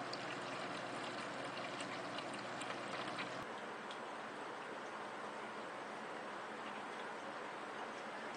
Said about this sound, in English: there's the water coming back into the ice chest